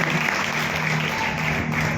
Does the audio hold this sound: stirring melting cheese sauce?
no